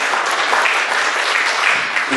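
Loud, dense audience applause fills a recognition banquet hall, steady clapping from many hands with no break and no voices over it.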